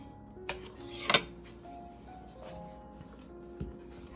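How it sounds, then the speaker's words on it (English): Gingerbread dry ingredients stirred together in a bowl: soft scraping broken by a few light clinks of a utensil against the bowl, with a cluster of brief rattling taps in the middle. "now we're gonna mix this together"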